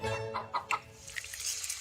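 Hens clucking on a farm, a few short soft clucks and calls scattered across a quiet background with a faint watery trickle.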